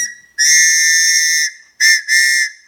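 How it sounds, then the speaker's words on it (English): An emergency whistle is blown hard three times: one long shrill blast of about a second, then two shorter blasts close together. It is loud and close, with no talking. "So you got a whistle, emergency whistle."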